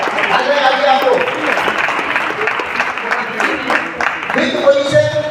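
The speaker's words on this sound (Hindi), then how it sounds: "जोरदार तालियों के साथ आगे आगे आप लोग।" Applause from a crowd at a district-level science exhibition prize announcement, sustained clapping heard under a loudspeaker voice and crowd chatter.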